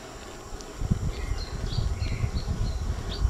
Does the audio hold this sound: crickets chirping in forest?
yes